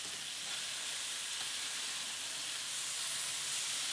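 Chicken breasts sizzle on a hot grill after being flipped, a steady, close, broadband hiss that holds evenly throughout with no talking.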